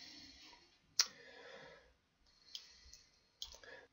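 A computer mouse clicks through PSIM simulation software, a few faint, sharp clicks spaced irregularly over a quiet background.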